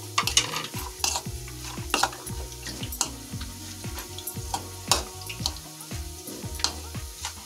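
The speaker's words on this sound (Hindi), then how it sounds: "और इसमें हम ये मसाले मिक्स कर देंगे।" Spices being stirred into grated carrot and paneer in a bowl for paneer nazakat, with repeated scraping and clinking strokes in an uneven rhythm, close and moderately loud, no talking.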